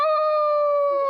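One wolf howl, loud and close, holds a long steady tone for about a second and then stops abruptly.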